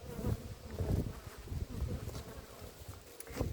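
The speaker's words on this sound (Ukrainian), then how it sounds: "А дід бджола, як гуде, дивіться." A bee buzzes close by in a low, steady drone, along with faint outdoor rustling. No one speaks.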